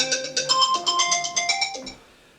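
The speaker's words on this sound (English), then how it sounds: "My phone just went off." A mobile phone ringtone goes off with a bright, repeating electronic melody in quick rhythmic pulses, fairly loud and close, then cutting off after about two seconds into quiet.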